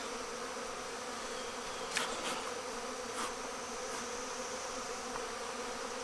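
Honeybees from a freshly moved hive buzzing all around in a dense, steady drone, with a few individual bees zipping close by.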